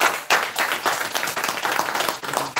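A church congregation claps and applauds together, close and dense, with steady mixed hand claps that carry on without pause.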